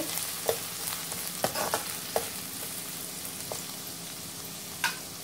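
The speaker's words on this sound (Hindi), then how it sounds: "अब इसमें डालेंगे हम कांदा। फिर हल्का सा फ्राई कर लेंगे।" Chopped onion sizzles steadily in a hot pan for egg chilli, a dense continuous frying hiss close up, broken by a few soft scrapes and clinks of stirring, with no voices.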